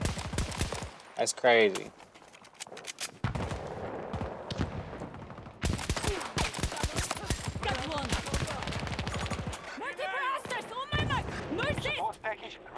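Rapid gunfire bursts from a multiplayer shooter game crackle in dense, repeated volleys throughout, mixed with loud excited talk from a player over the action.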